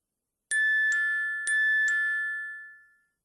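A front door doorbell chimes with four clear, bright ding-dong tones in two pairs, ringing loud and close in an otherwise quiet room before fading out.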